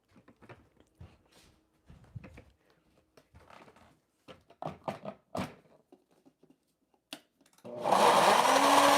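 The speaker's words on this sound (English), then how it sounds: "I'm just gonna go pop this on the blender in the back room for 3 minutes" Blending raw vegan Alfredo sauce, a blender in a back room starts after a stretch of quiet handling and clatter and roars steadily and loudly through the last second or so.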